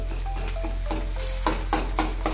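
Ground coriander and cumin sautéed in hot oil in a pan, a steady sizzle under a series of crisp, regular spatula scrapes that grow sharper toward the end, nearby and unaccompanied by speech.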